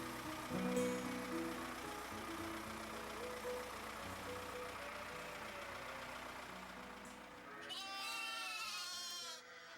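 Sheep and lambs bleat on a farm during lambing season, their calls rising over a steady engine rumble in the background, with a louder cluster of close bleats near the end.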